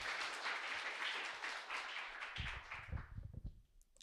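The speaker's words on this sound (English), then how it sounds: "Okay, so please clap again now." A developer meetup audience in Tbilisi claps on request, a dense burst of applause that thins into scattered individual claps as it fades out.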